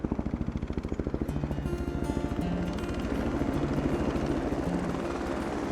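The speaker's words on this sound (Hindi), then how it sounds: "ये हेलीकॉप्टर।" A helicopter's rotor thumps in rapid, steady pulses with an engine drone, loud and close, continuing alone under faint background music tones.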